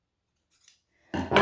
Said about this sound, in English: just shave it off with your scissors